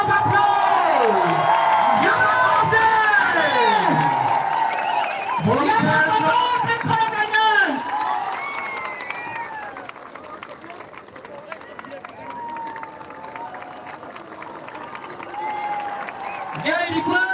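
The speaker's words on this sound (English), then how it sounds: "Give him a big round of applause!" Crowd applause and cheering at a live community event for a former Manipur minister, with whoops and shouted voices layered over the clapping, loud at first and then thinning to lighter background clapping and chatter.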